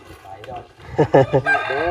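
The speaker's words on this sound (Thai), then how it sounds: "มันไก่เนาะ" A rooster crows close by, its strained, rising call broken into a few loud pulses and ending in a long drawn-out note, heard alone without talk.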